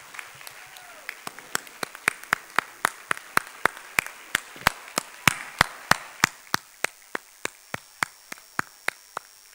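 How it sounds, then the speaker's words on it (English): A small audience at a school annual day programme claps in slow, evenly spaced single claps that build into a steady rhythmic beat, with a faint voice at the start. "can we all give her a big applause and a standing ovation"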